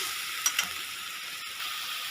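Chopped onions sizzle and fry in a pan while being stirred for a dhaba-style fish curry, a steady low crackle with a couple of soft stirring knocks early on.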